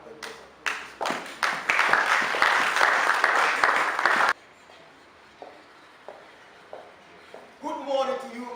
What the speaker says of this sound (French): je vous prie de l'accueillir avec des applaudissements